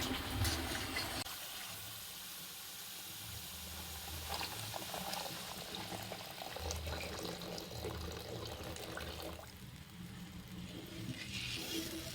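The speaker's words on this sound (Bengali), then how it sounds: "তো দেখো ঝোলটা ফুটতে শুরু করেছে" Banana flower kofta curry gravy starts to boil in a pan, a faint, low bubbling and watery churn with a steady background rumble, no voices heard.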